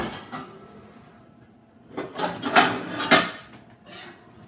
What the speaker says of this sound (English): Let me get a skillet.